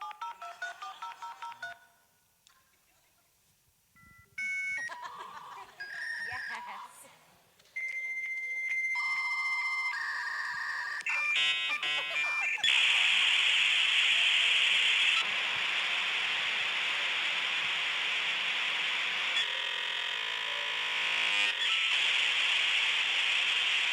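Dial-up modem connecting to the internet: dialing tones, then a sequence of shrill beeps, squeals and warbles, settling into a loud, continuous hissing screech of handshake noise.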